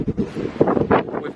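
Strong November wind gusting outdoors in the Lake District, buffeting the microphone in broad, uneven roaring surges that rise and fall over a second or so, with no talk.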